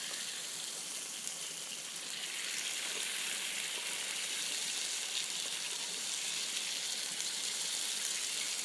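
Meat frying in a frying pan at a mountain day camp, a steady, moderately quiet hiss of sizzling fat that runs unbroken throughout.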